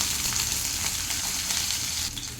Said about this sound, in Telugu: ఈ ఉల్లిపాయ ముక్కలు మంచిగా ఫ్రై చేసుకోవాలి